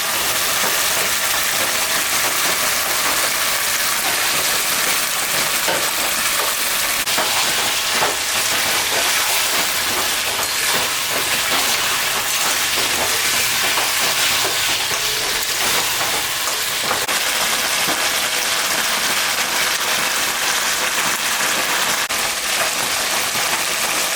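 Chicken meat sizzling and frying in hot spiced masala, a steady, loud, dense hiss that carries on without pause.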